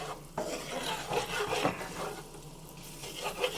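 Little shrimp bits sautéing in a pan for shrimp scampi linguine, heard as a quiet scraping stir with a faint sizzle underneath, close but soft, the utensil rasping across the pan several times.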